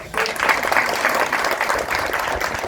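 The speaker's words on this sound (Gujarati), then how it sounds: "એના માટે તાળીઓનો ગડગડાટ" A crowd at a temple trust's trishul-offering ceremony on a full-moon day breaks into sustained applause. Dense, close clapping fills the whole stretch at an even loudness.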